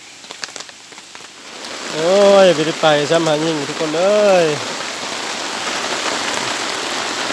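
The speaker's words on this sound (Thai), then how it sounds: "นอนฟังเสียงฝน" Steady rain falls on a surface, a constant close hiss of drops; a person speaks briefly over it partway through.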